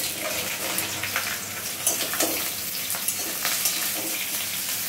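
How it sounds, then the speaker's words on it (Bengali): Okra frying in hot mustard oil in a wok, a steady close sizzle with soft crackles and a few stirring clinks, no one talking. "তেলের মধ্যে ঢ্যাঁড়সটা দিয়ে দেব।"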